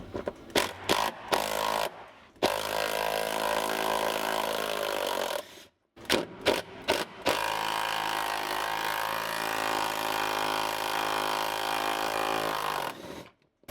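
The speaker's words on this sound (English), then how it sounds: "So let's undo these 2 bolts and see what happens." Bursts of a power tool undoing the prop shaft bolts on an Escort Cosworth, close and loud, with short rattling pulses and then long sustained runs separated by brief silences.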